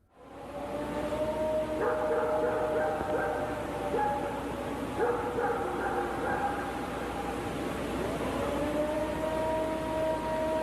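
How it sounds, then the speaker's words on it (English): A long, wavering, siren-like howl rises and holds for several seconds over a steady background rumble in the Appalachians, distant and eerie. "a long, eerie howl shattered the silence"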